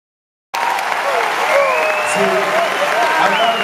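Audience applause at Star Wars Celebration V during a screening of a Return of the Jedi entrance scene, a broad wash of clapping that starts abruptly and continues steadily beneath tonal film sound.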